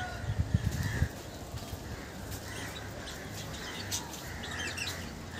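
Small birds chirp in scattered bursts at a small zoo in Dheusagar Park, Digha, the thin calls coming from a little way off over a steady outdoor background, with some louder knocking and rustling near the start.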